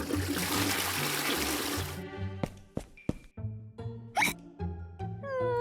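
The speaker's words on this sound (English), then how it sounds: "Pinkie Pie refused to listen and went to the toilet" A toilet flushes with a rushing two-second burst of water, then trickles and gurgles away. Sharp little hiccup-like pops and squeaks follow in a stop-motion paper cartoon bathroom scene.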